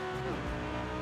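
Twin-turbo 1200 HP Lamborghini race build in Forza Horizon street racing, a loud close engine roar with the pitch dropping sharply as it shifts or lifts off.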